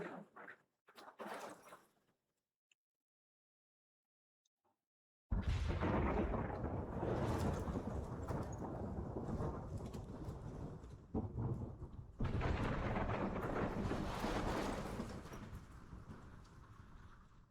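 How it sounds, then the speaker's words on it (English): A thunderstorm rolls through the video game Life Is Strange: a short rumble, a brief silence, then a loud, sustained roar of thunder and storm noise that swells again near the end. "This is my storm. I caused this."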